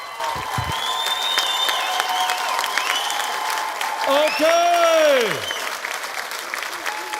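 Audience applause fills a hall during an awards session, steady clapping throughout while someone speaks over it and a short brief feedback-like tone sweeps down near the end.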